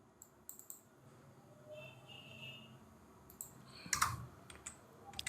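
A computer keyboard clicks through scattered light keystrokes, with one harder, louder press partway through, close and quiet over faint room noise.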